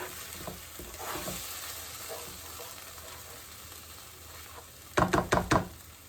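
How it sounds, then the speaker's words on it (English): Spices sizzle quietly in oil in a pan on low heat, a soft steady frying hiss, followed by a quick cluster of sharp knocks near the end. "So this is frying on the low heat till the oil separates from the spices"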